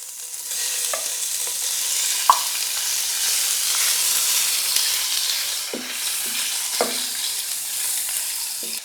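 Small boneless chicken pieces sizzle steadily in a little cooking oil in a frying pan, a continuous close hiss with occasional stirring clacks and a few sharper spatters.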